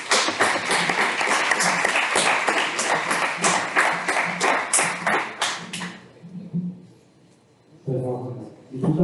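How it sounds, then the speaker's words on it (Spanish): Applause from a lecture audience welcoming a speaker, steady and dense for about six seconds before fading out, then a voice begins speaking. "yo quiero que recibamos a Juan con un aplauso"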